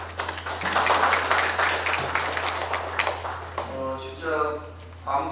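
A short round of scattered applause from reporters at a city mayor's press briefing, clapping fairly close, before a voice begins speaking over a steady low hum.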